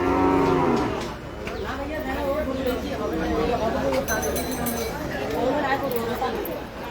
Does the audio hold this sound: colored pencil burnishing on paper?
no